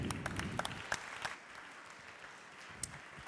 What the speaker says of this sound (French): On applaudit Stéphane Datrino, s'il vous plaît.